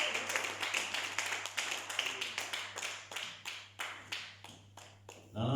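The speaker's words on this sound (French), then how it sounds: "Acclamez pour la gloire de Dieu" A church congregation clapping together in praise, a dense run of rhythmic hand claps that thins toward the end, loud and close with no talk over it.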